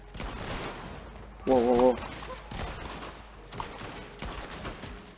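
Gunfire from the Red Dead Online video game: a loud, dense burst of shots in the middle with scattered weaker cracks around it, heard under a speaking voice.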